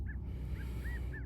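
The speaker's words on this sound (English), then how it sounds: "When I hear that bird, I always hear, I love you, I love you, I love you." Outdoor bird calling, several short, clear repeated notes at a steady pace, faint against a low ambient background.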